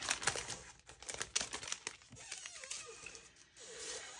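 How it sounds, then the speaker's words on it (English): A plastic bag crinkles faintly during a Dollar Tree DIY rope ghost craft with a hot glue gun, giving a run of soft, dense rustling and crackling bursts with no voices. "Here, I'll take this plastic bag."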